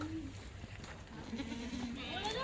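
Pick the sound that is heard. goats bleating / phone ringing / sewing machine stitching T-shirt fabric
goats bleating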